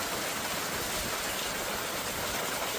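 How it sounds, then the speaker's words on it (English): Hail falls steadily during a storm in Calgary, a dense, even hiss of many small impacts that fills the whole clip at moderate volume with no talking. "Did I show the hail in Calgary?"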